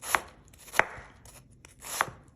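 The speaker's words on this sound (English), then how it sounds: "You could also cut this way for your" Chef knife slicing a peeled onion on a cutting board, three crisp, close chops at uneven intervals with quiet gaps between them.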